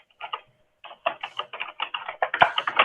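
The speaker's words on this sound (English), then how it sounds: "Sorry, if someone's typing, could they please put themselves on mute?" Computer keyboard typing over an unmuted video call during a regional planning commission board meeting, a quick run of close, crisp key clicks after a brief pause, growing denser toward the end, with no talk.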